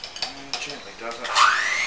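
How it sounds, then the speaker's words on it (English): A spatula scrapes and folds a cooled Pai Mu Tan tea mixture into whipped cream in a bowl, giving a few soft, close, wet swishes and scrapes with a brief louder smear near the end. "we're just going to fold this mixture into the cream"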